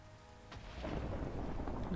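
Thunder from a Minecraft lightning bolt opens with a sharp crack, then swells into a loud, broad rumble over heavy rain, with no voices.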